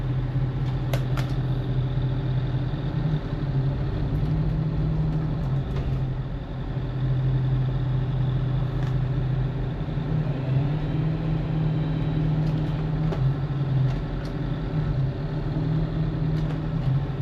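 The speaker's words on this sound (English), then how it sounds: "Let's throw her in gear, make sure gear works." Twin engines on a neglected 70-foot yacht run steadily in gear, a low, continuous droning hum with faint rattles on top, close and unbroken for the whole stretch, with no voices.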